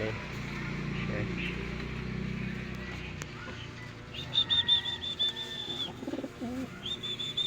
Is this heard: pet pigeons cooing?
yes